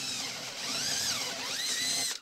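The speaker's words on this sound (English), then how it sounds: "Drill these all out to 1/2 inch" Power drill boring holes out to 1/2 inch in strut channel for a movable shop hoist, a steady high whine with rising and falling pitch, close and loud throughout before cutting off at the end.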